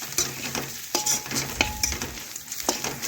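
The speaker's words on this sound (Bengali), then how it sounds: "এইভাবে নাড়াচাড়া করে ভেজে নিয়ে এখন দিয়ে দিচ্ছি ওপর থেকে হলুদ গুঁড়ো" Bottle gourd greens frying with turmeric and red chili powder, a quiet sizzle punctuated by several clattering spatula strokes against the pan.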